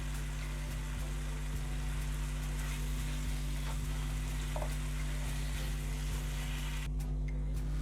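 Boiled mutton pieces frying in a pan for taka tak, giving a steady, dense sizzle with faint crackles under a constant low hum, continuous throughout without any talk.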